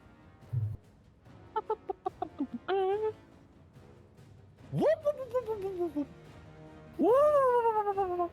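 A house cat at the door lets out a few short calls, then two long, drawn-out meows that rise and fall, close and clear against a quiet room.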